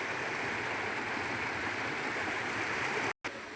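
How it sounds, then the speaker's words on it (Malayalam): Water rushes along a stream as a loud, continuous broadband roar. It cuts out briefly near the end and then resumes, with no speech. "ഇപ്പം ഈ വെള്ളത്തിൻ്റെ ഒച്ചലും കേൾക്കുമ്പോൾ പേടിയാകും."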